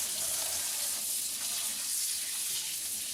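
Running water rinses brined oysters on trays before smoking, a steady broadband hiss and splash that holds evenly from start to finish, close by and without any voices.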